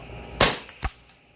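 A rifle fitted with a Black Arts barrel band fired at the range, one sharp loud report followed by a second lower thump and a faint distant echo.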